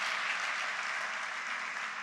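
A university convocation audience applauds steadily, a dense, continuous wash of clapping that holds at an even level for two seconds with no voices on top.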